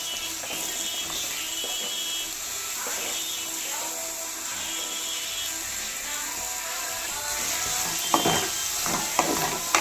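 Steady sizzling of ridge gourd pieces frying in a pan with ginger and turmeric, a constant close hiss with scraping stirs and a few clinks toward the end.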